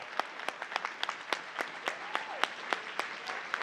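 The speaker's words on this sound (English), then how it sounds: "Can you join me in giving this panel a rounding round of applause?" Sparse clapping for a panel at a philanthropy forum, a few hands giving distinct, evenly spaced claps, quiet and close, with faint background noise.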